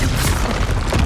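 A Confringo fire-blast spell in Hogwarts Legacy lands as a loud, dense boom that stays thick and rumbling for about a second, with crackling burst energy throughout.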